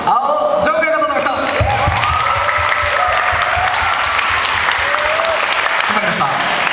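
Audience at an Okinawa under-19 beatbox battle final breaks into loud, sustained applause and high-pitched cheering with shouts, a dense roar filling the whole stretch.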